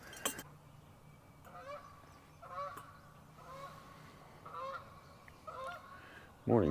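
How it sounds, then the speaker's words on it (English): Several geese honk repeatedly in a loose, overlapping series from some distance over flooded timber by a lake, against a quiet outdoor background. "Morning, geese."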